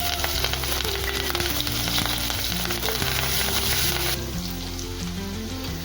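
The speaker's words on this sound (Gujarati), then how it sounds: "રાઈ નાખીશું, કડી પત્તા, હિંગ અને લીલા મરચાં" Mustard seeds, cumin, curry leaves, asafoetida and green chilies spit and sizzle in hot oil for a dal pakwan tempering, a steady close crackle that runs unbroken throughout, with a faint tonal hum in the background.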